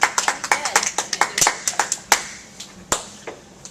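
Scattered hand claps, a dozen or so sharp slaps at uneven intervals, fairly close, with faint voices in the background.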